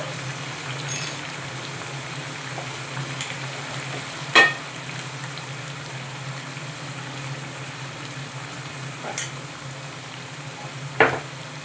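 Ginger paste stirred into a hot frying pan, a steady soft sizzle and crackle with a few sharp scraping clinks of the spoon against the pan.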